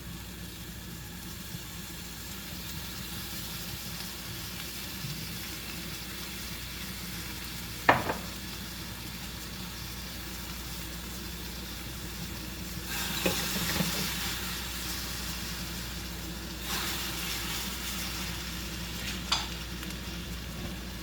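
Chicken stir-fried with oyster sauce for Hainanese chicken gives a steady low sizzle with occasional scraping stirs and a sharp clank of a utensil against the pan, no talking.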